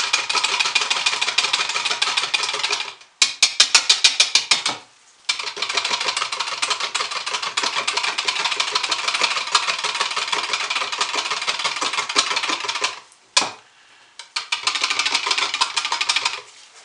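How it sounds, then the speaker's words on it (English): Stick blender whirs loudly while mixing soap batter in bursts: a long steady buzzing run, a short stuttering pulse, then more sustained blending with brief pauses between. "I'm going to make a little bit of noise again and stick blend these"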